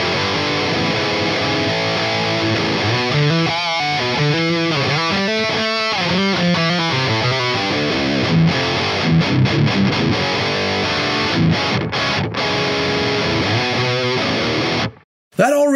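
Electric guitar played through a Brunetti Extra Lead amp boosted by a Tube Screamer, giving a driven, sustained tone with chords and single-note runs that play steadily and loudly, close to the mic, with no talking, until a sudden stop near the end.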